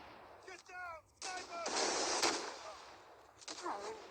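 Arctic 50 gunfire in Call of Duty Mobile, a run of sharp shots and bursts over game sound, with brief voice-like bits between.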